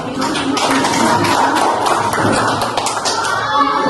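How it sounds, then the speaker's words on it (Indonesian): Applause in a classroom for student group 4, a steady patter of many hands clapping together, with children's voices chattering underneath throughout. "Masih tepuk tangan untuk"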